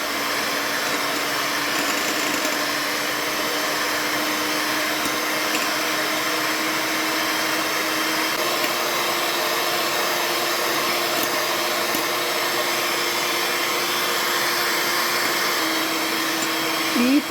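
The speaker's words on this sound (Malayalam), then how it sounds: "ആദ്യം ലോയിലും പിന്നെ സ്പീഡ് കൂട്ടി നന്നായി ബീറ്റ് ചെയ്യുക." An electric hand mixer beats eggs for a carrot and date cake batter, giving a steady, fairly loud motor whine that holds its pitch throughout and shifts slightly near the end.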